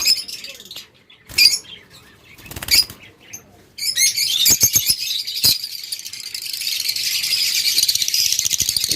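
Scattered lovebird chirps and fluttering wings at first, then a dense, continuous chatter of many lovebirds in nesting boxes.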